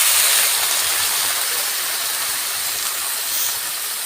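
Water hits a hot pan of fried figs and onions, setting off a loud, steady, broadband hiss of steam that slowly eases, with no talking.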